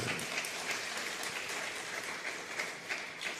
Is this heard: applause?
yes